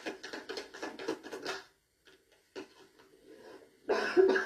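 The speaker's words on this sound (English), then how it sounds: "I'm so sorry for coughing so much." A person coughs repeatedly in quick bursts, close up, pauses briefly, then breaks into another harsh coughing fit.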